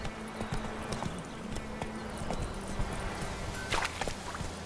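The hooves of Roach, a horse in The Witcher 3, clip-clop in a steady walking rhythm of close, distinct thuds over a low ambient bed.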